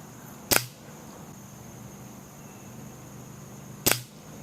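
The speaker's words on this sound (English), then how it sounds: "We're going to put 4 shots into it just to get a good average." A Red Ryder BB gun fires into ballistic test media past a chronograph: two sharp, loud, close pops about three seconds apart, each alone over a steady low hum.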